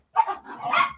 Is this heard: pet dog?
yes